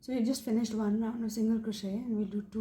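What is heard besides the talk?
No everyday noise stands out behind the speech.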